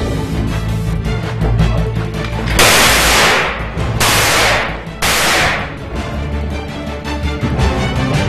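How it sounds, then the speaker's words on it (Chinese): Explosive door breaching during a Chinese-Indian army counter-terror drill: three loud, sharp blasts a little over a second apart, each a bright burst with a fading tail, over a steady background rumble. "清剿组立刻实施爆破手段，破门而入"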